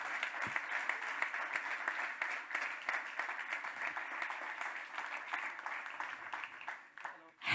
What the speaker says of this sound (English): Please give an incredible warm round of applause to Nico Rosberg.